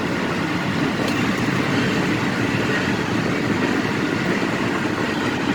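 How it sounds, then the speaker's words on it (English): A Union Pacific freight train rolling past near the Lawndale and Lincoln area of Illinois, a loud, steady rumble of rail cars and wheels on track with no breaks or talk. "freight train just going by Lawndale and Lincoln area"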